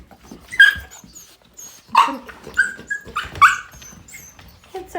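A dog named Ginger whimpers and gives several short, sharp barks and yips while being put into a kennel, with bursts spaced irregularly and quiet gaps between, close by.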